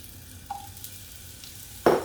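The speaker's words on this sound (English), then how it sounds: "You will know the pan is hot or not when you put the vegetable. It's sizzling." Onion hits a hot oiled pan for a stir-fry, bursting into a sudden loud sizzle at the end after a quiet stretch with a faint clink.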